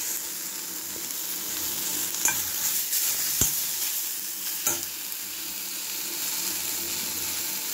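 Tomato pieces, tamarind and coriander frying in oil in a pan, with a continuous sizzle and occasional sharp scrapes and clinks from a stirring utensil.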